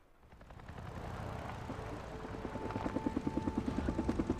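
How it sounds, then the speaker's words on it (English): A helicopter in the Days Gone video game approaches and flies overhead, a low engine roar building in loudness until rapid rotor thumps pulse steadily and close. "Oh God, I gotta follow that chopper."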